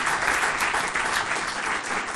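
A crowd claps steadily and enthusiastically, a dense, even wash of applause that continues throughout.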